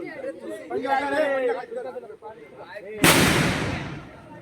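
Voices chatter, then a loud burst of crackling firecrackers erupts at a Ganesh immersion procession in Konkan, popping and hissing with heavy smoke, drowning out the talk.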